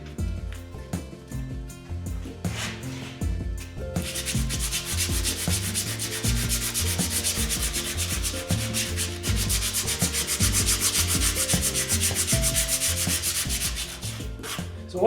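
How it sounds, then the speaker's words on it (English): Hand sanding with 100 grit sandpaper on a rubber-faced walnut block, rubbing a part for a 1946 Willys Jeep CJ2A water pump: close, steady back-and-forth scratching strokes that grow denser and continuous. "So what I'm using is a piece of 100 grit sandpaper."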